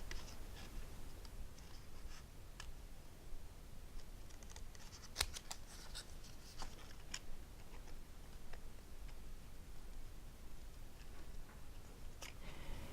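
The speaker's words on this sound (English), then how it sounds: "When you're cutting, it's better too, don't move your scissors, move the paper with" Scissors snipping through paper while trimming pieces for a paper flower craft, a series of soft, close snips and scratchy ticks spread unevenly across a quiet room, with no talking.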